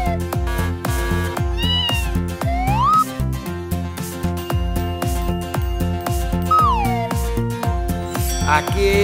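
A cat-like meow rises twice over a bouncy children's Halloween song, the mewing glides sitting among steady music and beats throughout.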